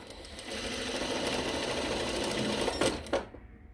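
A sewing machine runs steadily as it stitches a seam on a shirt, its motor humming continuously for nearly three seconds before two quick bursts and then silence as it stops.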